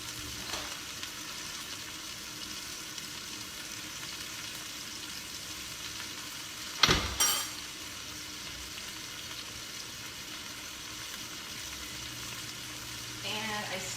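Ground hamburger meat browning in a pan for a lasagna casserole, a steady quiet sizzle with a brief scrape of stirring in the middle, heard alone.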